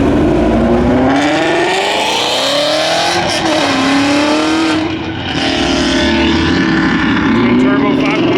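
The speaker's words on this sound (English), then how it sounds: "Got a gaggle of Mustangs rolling out with the GT350 rolling out first." Several Ford Mustangs, a GT350 leading, drive out at a car meet with loud engine drones and revs rising and falling continuously, close by, with a voice talking over them.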